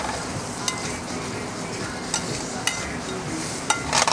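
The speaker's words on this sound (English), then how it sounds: "let the brown sugar cook." Fresh strawberries and raspberries with brown sugar cook in a restaurant kitchen pan, a steady close sizzle and bubbling broken by a few soft scrapes of stirring.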